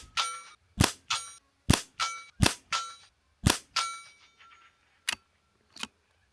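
A .22 rifle fires a group at 50 meters, a run of sharp, loud cracks with brief metallic ringing tails, spaced unevenly and thinning toward the end, with no talking.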